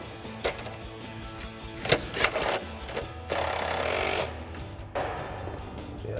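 Metal clicks and ratcheting as a 10 mm socket and wrench tighten pinch weld bolts while installing steel side steps on a Jeep Wrangler JL, with a few sharp clanks and sustained noisy bursts of work close by.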